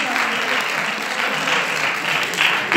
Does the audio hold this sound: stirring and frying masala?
no